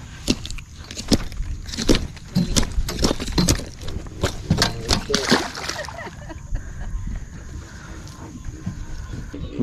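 A fish is thrown back into the water at night during a bowfishing trip, making a run of loud, close splashes and sloshing over the first six seconds, followed by quieter water and ambient noise.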